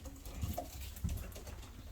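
Pigeons in a loft give a couple of low, soft coos close by over a constant background hiss.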